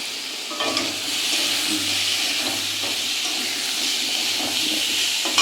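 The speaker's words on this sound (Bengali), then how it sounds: "এটাকে জল দিয়ে ভালো করে গুলে রাখা হবে, মশলাটা নেড়ে দাও" Steady sizzling hiss of spice paste frying in oil, with occasional soft scraping as it is stirred, continuous and close.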